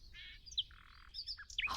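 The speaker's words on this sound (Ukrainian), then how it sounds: "це євразійський блеккеп" Eurasian blackcap singing a short, fast run of bright, varied warbling notes with sharp chirps and whistles, close and fairly clear over a faint low rumble.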